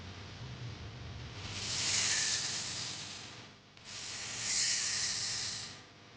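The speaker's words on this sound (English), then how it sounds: "What is this? Snake." A snake hisses twice, each a long airy rush that swells and fades, with a short gap between them and no voices.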